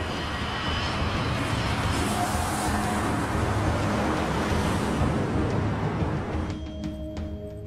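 A plane flies near San Diego's busy airspace, where commercial, military and private aircraft operate, producing a steady, broad engine roar that fades away toward the end.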